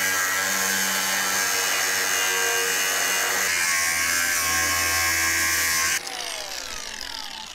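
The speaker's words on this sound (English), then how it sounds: "the first step was to cut fault lines to encourage the cast iron to crack" A power tool cuts fault lines into a cast iron bathtub for scrap with a loud, continuous high whine and grinding screech. The pitch drops and changes partway through and eases again near the end.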